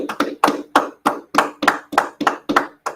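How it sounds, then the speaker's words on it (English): Sharp hand claps ring out in a steady rhythm, about eleven evenly spaced claps over three seconds, close and fairly loud, from a Thursday class gathering in Houston, with no talking over them. "Clap it up, everybody."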